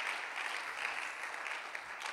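Congregation clapping in a church, a steady, fairly quiet patter of applause that holds evenly throughout with no voices over it.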